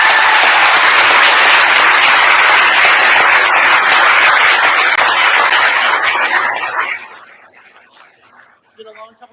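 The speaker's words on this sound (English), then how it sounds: "Another round of applause." Loud, sustained audience applause at an intercollegiate ethics bowl national championship, dense clapping that fills the room for about seven seconds before fading to scattered claps.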